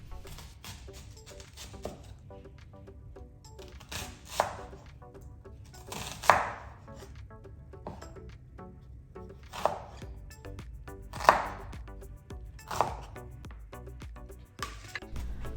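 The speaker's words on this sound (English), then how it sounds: "For all the vegetables, we will cut them into cube size." Vegetables, including pepper, being cut into cubes with a knife for a beef pepper steak stir fry, giving irregular sharp chops on a cutting board at close range, with no talking.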